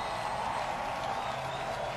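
Grandstand crowd at Richmond International Raceway applauding and cheering Tony Stewart on his final run, a dense, steady wash of distant clapping and crowd roar with no breaks.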